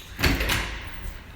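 The door to a Helsinki coffee roastery opens with a quick sliding whoosh and a soft thud, fairly close, followed by a faint fading rush.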